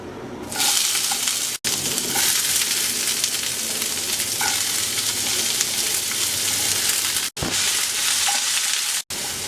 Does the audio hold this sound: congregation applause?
no